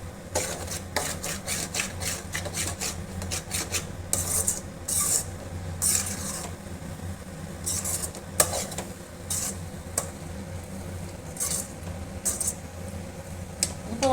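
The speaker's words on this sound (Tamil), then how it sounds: "இது முட்டையை உடச்சி ஊற்றி அப்படியே கிளறிட்டே இருந்தோம்னா அந்த இது குடமிளகா கூட அப்படியே மிக்ஸ் ஆகிடும்" A utensil stirs beaten egg with capsicum in a pan, making steady, close scraping and rubbing strokes with occasional sharper scrapes and clinks, continuing throughout without pause.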